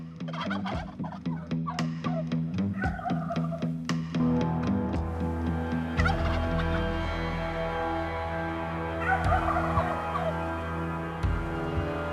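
Several wild Merriam's turkey gobbles from young jakes ring out at intervals over a steady low engine-like hum, with bird calls rising and falling through the clip.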